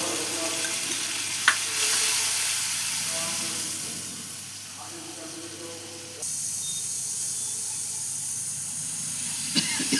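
A paste of cumin, coriander, dried red chilli and turmeric sizzles in a hot pan for a moong dal and mankochu dish, a steady close hiss with a few sharp clicks and stirring scrapes.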